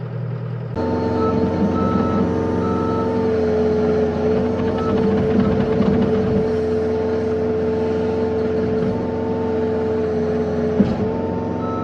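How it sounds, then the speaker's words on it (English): Diesel skid steer loader working in a backyard, moving dirt and gravel: a loud, steady engine drone with tonal hum runs throughout, starting abruptly after a moment of quieter idle, with a brief clank near the end. "I'm admittedly not super used to this skid steer."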